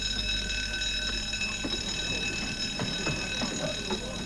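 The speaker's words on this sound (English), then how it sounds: "that is the alarm bell, which you all heard. There is no other bell like it on board." Alarm bell ringing on board the sailing schooner Spirit of Malcolm Miller, a loud continuous metallic ring sustained throughout, with faint clatter and movement beneath it.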